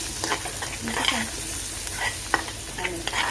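Chili and coriander being stirred in a hot pan, a steady sizzle broken by scraping strokes and light clinks of the spoon against the metal, no talking.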